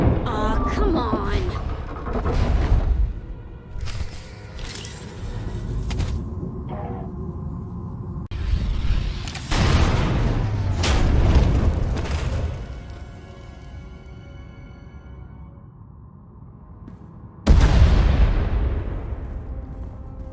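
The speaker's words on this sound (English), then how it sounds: "We heard explosions. The tunnel collapsed." Explosions and a collapsing tunnel in the video game Star Wars: The Old Republic, with several heavy booming bursts and rumbling debris, a big blast near the start, more around ten seconds, and a sharp final burst late, alongside game dialogue.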